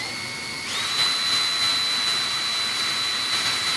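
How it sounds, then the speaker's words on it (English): A power drill bores through many layers of wood for a battery mount on a 2.6 m ASH26 composite model sailplane, spinning up to a steady high whine after a brief start and holding close and loud throughout. "I'm going through many layers of CAM wood here, so as you can imagine, it's quite a difficult drill"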